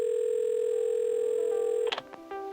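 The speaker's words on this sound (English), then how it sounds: "I wasn't sure until I reached for the phone and it all came flooding back." Steady telephone dial tone from the video game Assemble with Care plays alone, then breaks into a few sharp clicks as the handset is handled, followed by a softer tone.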